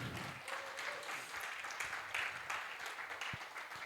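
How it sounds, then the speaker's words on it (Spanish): Applause from a church congregation, a soft, fairly distant patter of many hands clapping steadily for a few seconds, with faint voices under it. "quiero que le demos un aplauso a ella"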